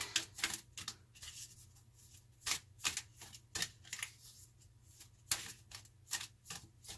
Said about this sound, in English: Let's cut the deck.